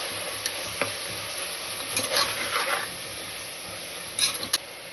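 Tomatoes cook in a pan with ginger paste added, giving a soft sizzle under faint scraping stirs and a few sharp utensil taps, with no one talking.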